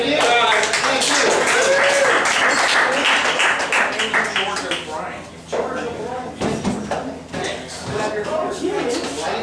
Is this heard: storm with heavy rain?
no